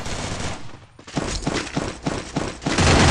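Gunfire in an online shooter game, heard as loud, dense bursts of automatic fire with rapid repeating shots, a brief pause near the start, then a sustained barrage to the end.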